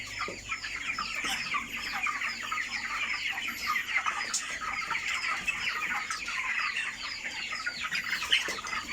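Dense crowd of broiler chickens, 25 days old, packed tightly in a farm house, clucking and chattering continuously in a steady, busy wash of overlapping calls with no voices.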